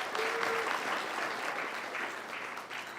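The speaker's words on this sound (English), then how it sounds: "Yes, extra clap." A church congregation claps in thanks to the kitchen staff during a service, producing steady, moderately loud applause from a roomful of people that holds for a few seconds and tails off slightly.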